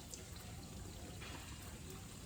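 Water poured gently by hand into a fish tank over a sand bed, a soft continuous trickle and splash running steadily throughout at low level.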